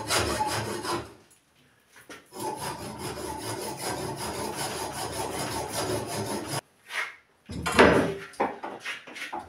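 A stuck angle-grinder disc is notched by hand with a saw or file, a steady close rasping scrape in long strokes that pauses twice briefly before a final louder burst of scraping.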